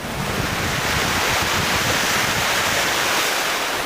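Waves wash up at the high-water line on a Gulf of Mexico beach in Destin, Florida, a loud continuous roar of surf mixed with wind buffeting the microphone, steady with no breaks.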